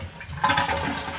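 A household toilet with its water supply shut off is flushed, giving a sudden rushing gush of water that swells and keeps draining, close and fairly loud, with no talking.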